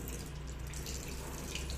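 Water runs from a tap while someone washes their face and eyes, a soft, continuous splashing trickle close by with no voices over it.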